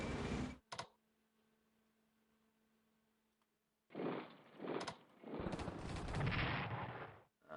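Artillery fire in the WW2 strategy game Strategic Command: War in the Pacific: a short blast, a quiet gap, then a longer run of loud, rumbling, overlapping explosions.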